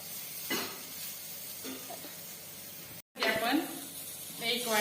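Brinjal with dry spices sautéing in a pan over a low gas flame, a soft continuous sizzle under someone speaking, broken by a brief silent gap.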